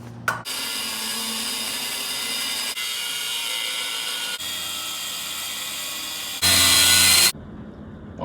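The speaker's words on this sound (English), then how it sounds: "start cutting these off on both sides, and then from there we'll start grinding out an area where we're going to make our cut" An angle grinder cuts steel brackets off a Ford 8.8 rear axle housing. It makes a steady, loud, close-up whine that runs almost without a break, with short dips where the cut is reset and a harsher burst near the end before it stops.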